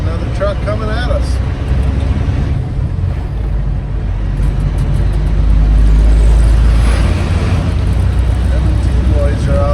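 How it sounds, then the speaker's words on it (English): A truck approaches and roars past on a road, heard from inside a moving grain-hauling truck whose engine rumbles steadily throughout, with the passing swell building loud and close toward the middle and end while someone talks. "Got another truck coming at us."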